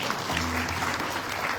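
Audience applause at a Hindu Renaissance cultural evening during a South Africa tour, a steady wash of clapping lasting the whole moment, fairly distant and even, with no voices over it.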